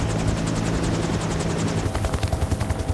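A helicopter flies near Mount Erebus in mist and fog, its rotor thudding loud and close in a fast, steady rhythm under a continuous engine roar, with no talking.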